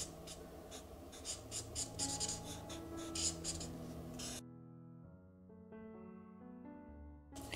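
Thick-lead pencil colouring on paper in quick back-and-forth rasping strokes, close and scratchy, before the sound drops away into quiet background music.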